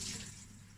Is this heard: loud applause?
no